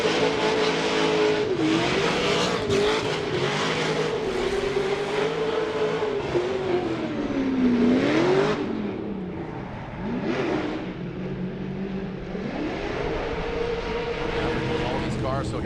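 BMW Formula Drift car at the 2024 Formula Drift Championship, its engine screaming and revving hard through a drift run, the pitch dipping and climbing with throttle changes over a continuous loud roar.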